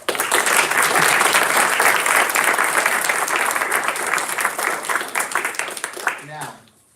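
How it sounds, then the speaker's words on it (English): A room full of people at a school district Board of Education meeting applauds staff members in a loud, dense, sustained wave that tapers off and stops near the end. "Please join me in a round of applause for these members."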